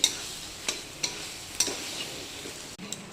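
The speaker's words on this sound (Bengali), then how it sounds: "কষানো হচ্ছে ছোটো আলুর তরকারি" Small potatoes in a spice-paste curry sizzle softly in a pan while being stirred, with a few distinct spoon scrapes and taps against the pan over a low frying hiss, close and quiet, no talk.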